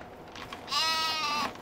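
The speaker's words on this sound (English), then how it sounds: "Ah, here are my sheep. Let's check the sheep." A single sheep bleat from Farming Simulator 2013, a short wavering cry about half a second long, heard close over a faint background hum.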